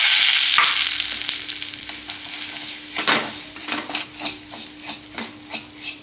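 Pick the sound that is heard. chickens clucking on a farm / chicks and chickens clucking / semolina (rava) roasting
semolina (rava) roasting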